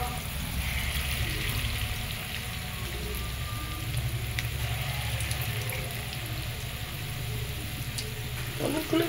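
Small lentil pakoras, Kolkata street-food style daler bora, deep fry in a pan of oil with a low, even bubbling sizzle that runs steadily throughout at moderate volume, with no talking.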